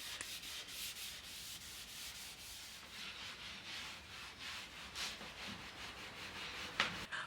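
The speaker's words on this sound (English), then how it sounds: "I use a very soft fine steel wool to apply the wax" Very soft, fine steel wool rubs wax into wooden furniture in quiet, repeated scratchy back-and-forth strokes, close and faint, with a small knock near the end.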